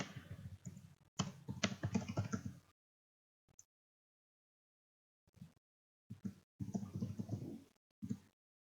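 Computer keyboard typing in quick bursts of soft clicks, near and clear, with short gaps of silence between runs of keystrokes; no one speaks.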